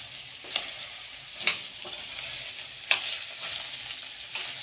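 Rice and vermicelli toast in a pan with a faint, steady sizzle. A few soft scrapes and clinks come from stirring at irregular intervals.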